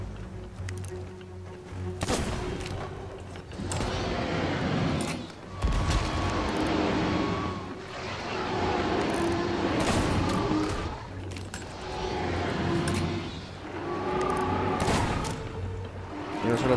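Dense Sea of Thieves gunfire during a kraken attack, with repeated bursts and booms over a steady rumble, loud and continuous, while voices speak Spanish intermittently in the background.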